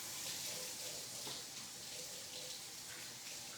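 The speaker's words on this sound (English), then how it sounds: "Gotta wash the hands." Hands are washed under a running kitchen tap, giving a steady close hiss of flowing water that holds on without a break.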